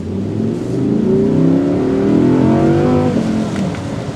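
A loud 2022 Audi R8 Performance V10 engine revving up and accelerating close by, its pitch climbing steadily with a throaty, rising roar.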